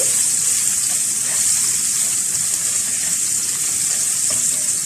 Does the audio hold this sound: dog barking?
no